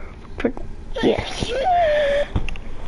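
A single short sneeze bursts out close by, then a voice speaks briefly in a higher, drawn-out tone while quiet background sound continues.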